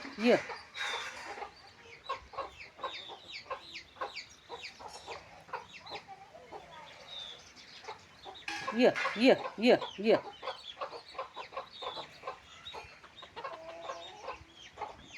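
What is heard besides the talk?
chickens clucking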